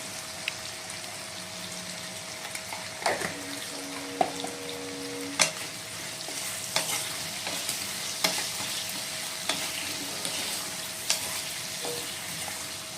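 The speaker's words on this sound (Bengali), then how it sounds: "তো আমাদের কিন্তু আলু ভাজা হয়ে গেছে।" Potatoes fry in a pan for a mixed vegetable curry, a steady close sizzle broken by intermittent clacks and scrapes of a stirring utensil, with no talking.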